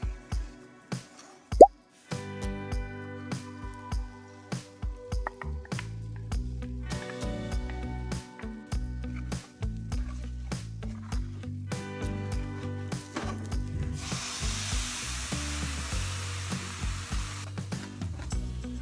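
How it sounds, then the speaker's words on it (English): Eggs poured into potatoes frying in a pan, then stirred: wet plops and utensil clatter in an irregular run, with a louder spell of sizzling later on, close and without speech. "I'm just going to pour in my eggs and mix and stir it together till it absorbs the whole potatoes."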